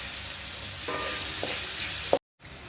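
Onion hits hot oil with whole cloves and a bit of cinnamon in a pan for carrot potato dum, a steady sizzle with a few stirring scrapes before cutting off abruptly.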